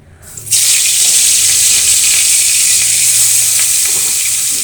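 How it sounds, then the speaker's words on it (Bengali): Fish dropped one by one into hot mustard oil on a lowered gas flame, setting off a loud, steady, close sizzle that fills the whole stretch after a brief quiet start, with no talk. "এবার আমি একটা একটা করে মাছ এই তেলের মধ্যে দিয়ে দিচ্ছি।"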